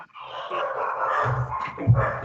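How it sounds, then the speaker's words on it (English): Dogs bark and yip at a distance, muffled and moderately faint, with a louder bark near the end. "Dogs are barking."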